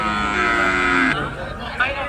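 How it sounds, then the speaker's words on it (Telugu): Buffaloes and bulls at the Markapuram cattle market in Andhra Pradesh: a single loud, drawn-out moo sounds close by, then breaks off into faint background murmur. "మంచి మంచి బర్రెలు వచ్చినాయి, మంచి మంచి ఎద్దులు వచ్చినాయి."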